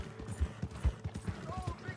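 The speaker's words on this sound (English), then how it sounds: "riding your horse from place to place" Horse hooves clip-clop in a quick, uneven rhythm as a rider travels in a video game, close and moderately loud, with a brief soft whinny-like tone near the end.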